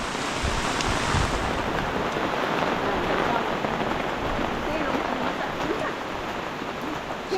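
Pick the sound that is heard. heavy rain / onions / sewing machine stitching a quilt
heavy rain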